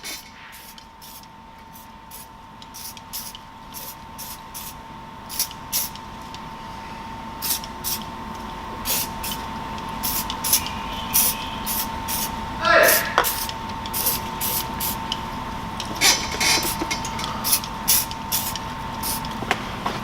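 WD-40 spray can spraying onto 2JZ engine pistons in a garage, repeated short hissing bursts in quick succession with someone talking between and over them and a steady background hum.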